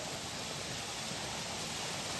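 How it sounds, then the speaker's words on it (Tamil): A waterfall in the Agathiyar hills rushes in a steady, dense hiss of falling water, close and constant with no voices. "அங்கே பாருங்க அருவி எப்படி இருக்குன்ட்டு"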